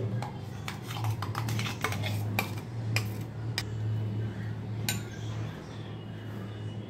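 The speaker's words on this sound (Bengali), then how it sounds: "এখন এই বাসনে সর্ষে পোস্ত, কাঁচা লঙ্কা আর নারকেলের পেস্টটা ঢেলে নিচ্ছি।" A thick mustard, poppy seed, green chilli and coconut paste is scraped into a bowl, with a spoon clinking and tapping against the vessel in a quick cluster of knocks, then a few isolated clinks over a low steady hum.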